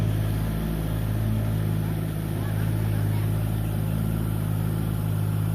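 Car engine running steadily as the vehicle reverses out of mud in a rice field, a continuous mid-pitched drone with no clear revving, fairly close and unbroken for the whole stretch.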